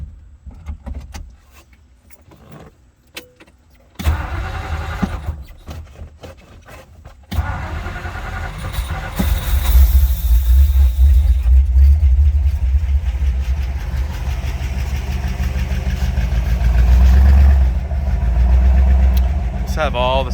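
A 1956 Ford Thunderbird with automatic transmission is cranked over after quiet rustling, catches on the second try and settles into a loud, steady idle with a brief rise in revs, close by and with no talk over it.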